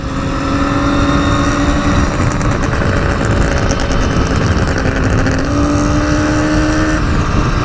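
A Kawasaki 350 Four two-stroke motorcycle ridden by Allen Millyard, its engine note sustained and loud, shifting pitch slightly as it runs close by, with road and wind noise underneath.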